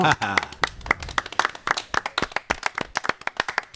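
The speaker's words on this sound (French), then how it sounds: "après nos applaudissements bien sûr" A small audience claps in quick, crisp bursts at a live show recorded at a wine cellar and organic market in Saint-Antonin-Noble-Val, opening with a voice before the individual claps thin out.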